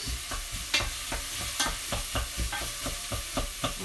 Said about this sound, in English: I'm just stirring that around.